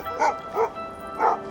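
Sled dogs at a Yukon kennel give three short yipping barks, spaced closely and heard at moderate distance.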